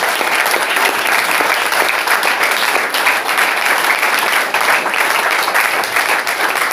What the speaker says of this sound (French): Applaudissons encore pour notre Seigneur